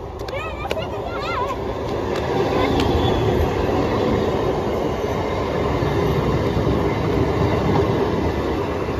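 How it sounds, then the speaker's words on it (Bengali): A passing train rumbles loudly and steadily, with a brief wheel squeal at the start and a dense clatter as it gathers speed; voices are faintly mixed in. "ট্রেন এখন স্পিড বাড়িয়ে নেবে।"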